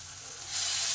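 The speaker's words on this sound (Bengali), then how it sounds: "এই মশলাটাকে 2 মিনিট কষে নেব।" A paste of ginger, garlic, onion and tomato sizzles in hot oil, a steady close hiss that swells louder partway through the brief moment.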